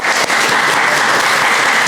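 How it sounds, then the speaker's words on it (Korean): A church congregation claps steadily and loudly to welcome new members during a Sunday worship service, a dense unbroken wash of applause. "우리 박수로 환영하도록 하겠습니다"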